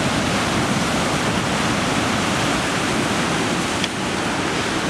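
Ocean waves crash against a rocky shore in Mexico, producing a loud, continuous roaring wash of surf that stays steady throughout without pause or voices.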